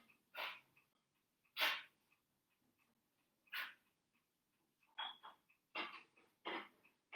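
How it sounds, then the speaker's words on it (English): A dog gives a series of harsh, raspy coughs in irregular bursts, fairly close, separated by short quiet pauses. "that's the dog coughing"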